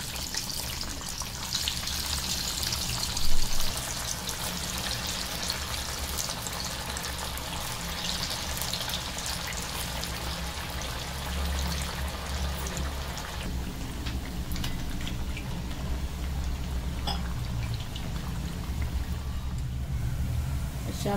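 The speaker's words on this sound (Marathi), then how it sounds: "आपण वड्या तळून घेऊया." Kothimbir vadi fry in hot oil with a steady, dense crackle and hiss that continues evenly throughout, with one brief louder pop early on.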